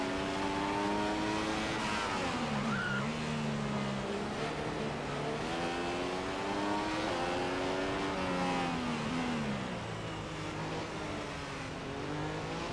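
A Formula 1 race car engine in F1 2015 at Monaco drones steadily at high revs, its pitch climbing and dropping through gear changes and corners, loud and continuous without a break.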